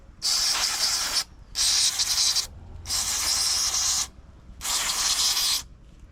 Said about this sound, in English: So carb cleaner again.